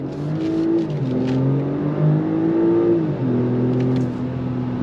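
A 2025 BMW X7 luxury SUV accelerates on throttle, its engine note heard as a smooth, steady drone that rises in pitch, drops with a gear change near three seconds, then climbs again, loud and close from the cabin.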